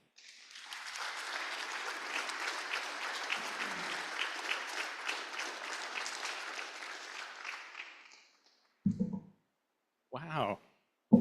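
Audience applause welcoming a speaker at a Rotary Club of Gainesville meeting, steady clapping from a crowd for about eight seconds that fades out, followed by brief bursts of talk.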